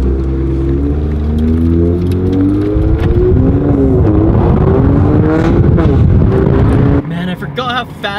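A car accelerates hard, its engine note climbing in loud, close revving sweeps for several seconds before cutting off abruptly, with lighter mechanical noise afterward.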